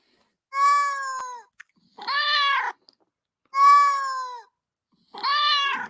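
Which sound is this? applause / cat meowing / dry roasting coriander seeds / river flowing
cat meowing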